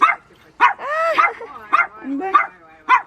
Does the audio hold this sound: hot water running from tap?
no